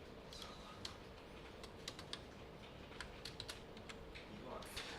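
Fingers typing on a computer keyboard at a desk, scattered quick key clicks in short irregular bursts, fairly close but soft, over a quiet room background with a faint low hum.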